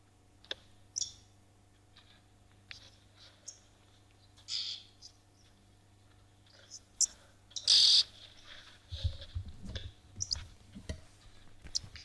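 A small flock of oxpeckers calling at a waterhole in South Africa, scattered sharp clicks and chirps spread through the scene with one louder burst, over a low steady hum.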